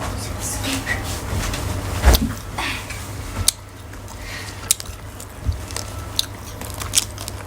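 Grilled dried squid from a street food stall is bitten and chewed close up, with one sharp crunch followed by smaller crackly bites and chewing under a running voice.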